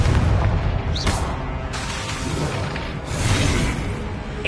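Confringo explosion spell in the Hogwarts Legacy video game, a loud booming blast with a rumbling tail, followed by a second burst.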